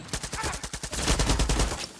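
Rapid automatic gunfire in the video game Far Cry 6, a tight burst of closely spaced shots that briefly slows then rolls into a denser, louder stream, loud and close.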